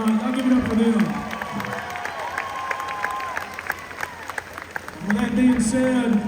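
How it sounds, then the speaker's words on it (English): A concert crowd claps steadily throughout, with a voice talking over it at the start and end. "They deserve the biggest round of applause of the night."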